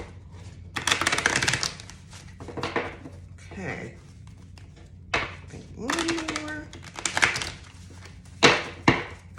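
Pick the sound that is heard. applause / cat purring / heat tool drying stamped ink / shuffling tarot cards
shuffling tarot cards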